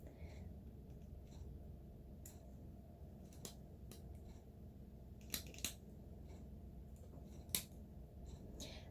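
Craft scissors cutting bezel wire: a few faint, sharp metallic snips and clicks spaced irregularly over a quiet, steady background hum.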